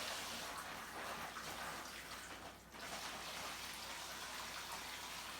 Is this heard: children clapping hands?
no